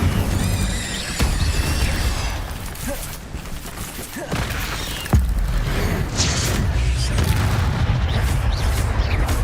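Fire spell cast in the video game Hogwarts Legacy: loud, dense bursts and booming blasts layered over continuous crackling combat noise, with sharp hits near 1.2 and 5.1 seconds.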